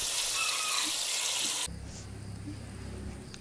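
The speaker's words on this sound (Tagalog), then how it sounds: "Naglagay ako ng isang baso at kalahating tubig." Water pours into a cooking pot for pork giniling, a bright rushing hiss that drops abruptly to a softer, lower gurgle partway through.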